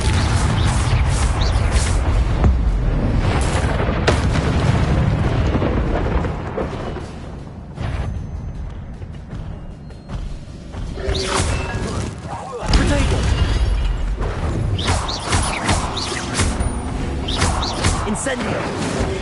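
Incendio fire spell explosions in Hogwarts Legacy on PS4, a run of crashing, thudding blasts with roaring flame bursts and impacts, loud and repeated in uneven clusters over game combat noise.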